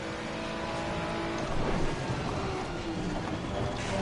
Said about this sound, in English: Oh yeah, downshifting hard